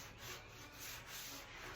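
Hand sanding a Fox-body car's body panel with a sanding block, heard as faint, steady, repeated rubbing strokes of abrasive on the panel, close by with no talk.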